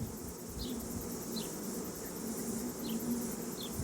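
Honeybees buzzing and humming at an open beehive make a soft, continuous drone close by, with a few brief higher buzzes as individual bees pass near, and no talking.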